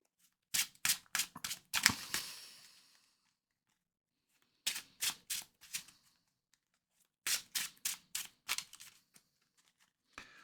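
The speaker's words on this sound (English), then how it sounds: "We'll shuffle these up." Marvel Champions cards are shuffled by hand at close range in three quick bursts of crisp riffling snaps, with pauses between them and no talking.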